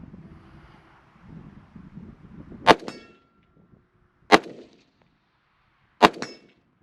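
Three sharp metallic clangs of DD-15 AR-15 rifle rounds striking a steel target outdoors, spaced well apart with soft wind noise between, each ring decaying quickly.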